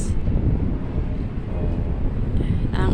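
Steady wind buffets the microphone outdoors beside the Pasig River on a hot, breezy day, a continuous low roar with no talk on top.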